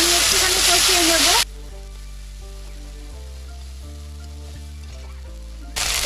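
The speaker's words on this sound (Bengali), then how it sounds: "দিয়ে দিচ্ছি লঙ্কা কুচি, দিয়ে দিচ্ছি আদা বাটা, আদাটা আমি একটুখানি কষিয়ে নেব" Chopped chilli and ginger paste sizzle sharply in ghee in a pan, a loud, bright frying burst at the start that cuts out, then returns briefly at the end.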